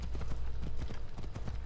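A horse's hooves clip-clop in a quick, steady rhythm as it picks up speed in Assassin's Creed Odyssey, close and fairly loud, with a low rumble beneath the evenly spaced hoofbeats.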